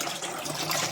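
Running water splashes steadily over leafy greens being rinsed in a sink, a continuous close-up gush with no pauses and no talking.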